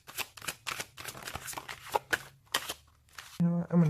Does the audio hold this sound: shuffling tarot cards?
yes